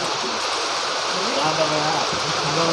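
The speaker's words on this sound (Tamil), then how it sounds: "சரியான மழை பெய்யுது" Heavy rain pouring outdoors during a crab hunt, a dense loud steady hiss throughout, with a voice speaking underneath partway through.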